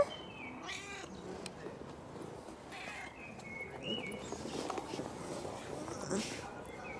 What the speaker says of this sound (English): she's outside and doing a lot of meow meows